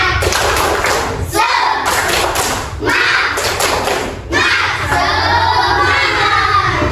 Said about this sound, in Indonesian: Tepuk semangat semuanya.